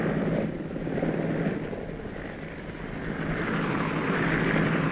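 A Whirlwind helicopter arrives over mountainous country in Aden to evacuate a wounded man, its rotor and engine a loud, continuous drone that dips slightly and then swells again.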